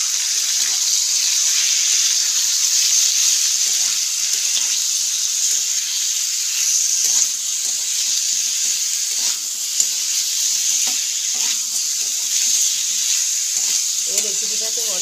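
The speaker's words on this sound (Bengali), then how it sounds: "মিক্সির মধ্যে যে মশলাটা আমি বেটে রেখেছিলাম সেটা এখন কড়াইয়ে দিয়ে দেবো" Ground paste of coriander, cumin, ginger, garlic and green chilli sizzling in hot oil in a wok, a steady bright hiss with scattered scrapes and clicks from stirring, close and continuous, no voices.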